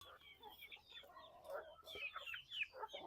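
Native chickens cluck in a farmyard, with a series of short, moderately loud clucks and calls scattered across the moment and no talking.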